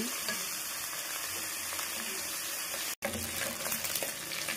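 Pork pata sizzles and crackles steadily in hot frying oil, a dense, continuous hiss close by with no talking.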